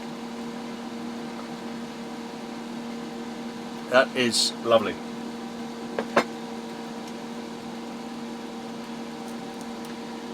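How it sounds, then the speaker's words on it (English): A steady fan drone runs throughout with a constant hum, while a few people talk briefly and a couple of clicks sound near the middle. "Sorry about the fan noise"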